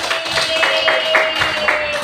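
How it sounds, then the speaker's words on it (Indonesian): A class of primary schoolchildren claps in steady rhythmic unison, loud and close, with a constant tone running underneath. "tepuk tangan lagi"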